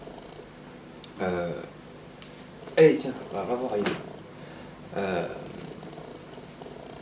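A cat purrs close to the camera, a low steady rumble under someone speaking French in short bursts, with a faint drawer-like knock.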